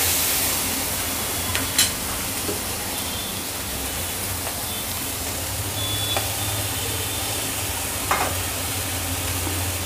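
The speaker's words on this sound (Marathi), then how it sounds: "हे सर्व आपण परतून घेऊया व्यवस्थित।" Mixed vegetables with bell pepper and cabbage sautéing in a pan for mushroom fried rice, a steady close sizzle with occasional spatula scrapes and clinks throughout, no talking.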